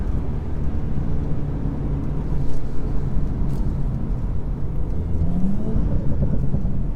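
Stage 1 Audi S4 engine pulls hard under acceleration from inside the car, a steady loud drone with a rising tone near the end.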